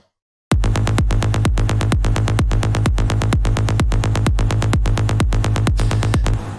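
A punchy electronic bass line plays loud and alone, its notes evenly spaced with strict straight timing and no swing, a steady repeating pulse of about a dozen notes with sharp attacks.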